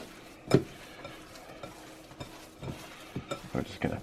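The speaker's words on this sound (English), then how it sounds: "we're just gonna have to get in there and mix it a little bit better" A fork works through a raw meat mixture for Salisbury steak, giving scattered soft squelching and clinking stirs at an irregular pace, fairly quiet.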